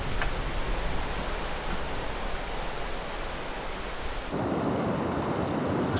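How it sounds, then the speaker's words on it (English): Heavy rain from a tropical typhoon storm on the Leizhou Peninsula pours down in a dense, constant roar, with a low rumble of thunder and a sudden shift in the rain's texture partway through. "tropical typhoons visit the Leju Peninsula. Some of them are extremely devastating."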